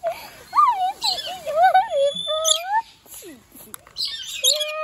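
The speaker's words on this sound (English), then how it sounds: "This is my favorite bird." A large bird perched on a person's hand at a bird park gives a series of loud, squawky, warbling calls close by, with people talking around it.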